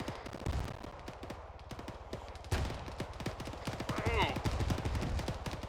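Rapid, sustained automatic rifle fire in Arma, 5.56 rounds aimed at an attack helicopter, with dense repeated cracks and a louder burst midway, while a voice talks over the shooting.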